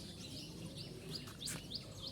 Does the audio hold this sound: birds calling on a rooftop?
yes